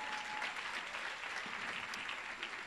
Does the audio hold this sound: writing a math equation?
no